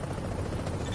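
A helicopter in The Division video game, a brief steady rotor thrum with a low pulsing drone, loud and close, heard alone with no talk.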